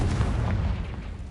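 A Confringo blasting spell in Hogwarts Legacy goes off as one short, heavy explosive boom with a low rumbling body that fades quickly, loud and close.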